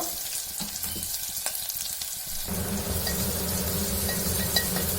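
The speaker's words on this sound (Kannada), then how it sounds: "ಈರುಳ್ಳಿ, ಕರಿಬೇವಿನ ಸೊಪ್ಪು ಎಲ್ಲ ಚೆನ್ನಾಗಿ ಫ್ರೈ ಆಗಬೇಕು" Onions, garlic and curry leaves frying in a pan for a tomato gojju, with a steady close sizzle that grows denser and louder about halfway through, with no talking.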